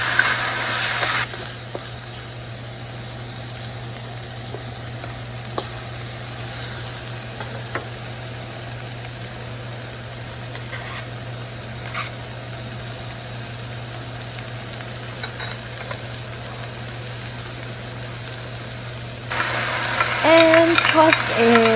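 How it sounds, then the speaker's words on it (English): Chicken with peas and carrots stir-fried in a hot pan, a steady sizzle with faint scraping from stirring running evenly throughout, growing a little louder near the end. "add the peas and carrots. And just give it a stir for about a minute."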